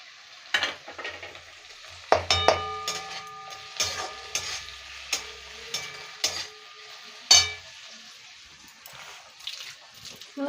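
Tomato with onion and ginger-garlic paste frying in a pan for a Kolkata-style rui fish curry, a soft sizzle broken by intermittent scraping and stirring knocks, close and moderate in level.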